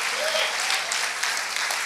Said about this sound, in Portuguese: Você pode aplaudir aquele que está no trono? Aplauda mais forte.